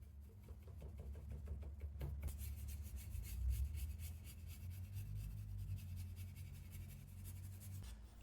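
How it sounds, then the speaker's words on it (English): Steady rubbing and scraping of sandpaper over dyed leather on a fish-shaped pencil case, a continuous close textured rasp with faint ticking strokes early on, no talk. "Get some high-grain sandpaper to remove some of the dye on the high spots for some highlights."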